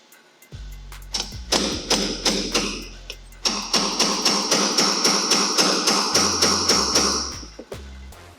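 A hammer strikes a punch to drive a pin into a gas block on an upper receiver, about fifteen sharp metallic taps in a steady rhythm, loud and close.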